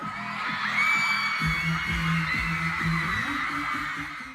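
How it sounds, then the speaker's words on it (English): Crowd of thousands of sorority women opening bid cards, a loud sustained wave of high-pitched screaming and cheering with thumping bass beats underneath. "that is the sound of thousands of women opening up their bid cards and finding their home for the next"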